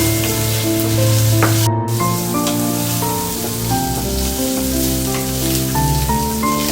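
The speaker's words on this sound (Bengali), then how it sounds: "চিকেনের সাথে আদা রসুনটা দিয়ে ডাইরেক্ট ফ্রাই করতে পারো সেটাও পসিবল" Chicken pieces fry in a pan with ginger and garlic, a steady close sizzle running throughout beneath prominent tonal background music, with no talking.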